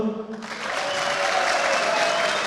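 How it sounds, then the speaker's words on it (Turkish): Dense audience applause fills a municipal meeting hall with civic associations in Kağıthane, swelling after a brief opening and holding loud and steady to the end. "Tabii yoğun alkışlar"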